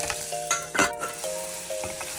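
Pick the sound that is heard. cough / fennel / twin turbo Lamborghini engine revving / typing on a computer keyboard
fennel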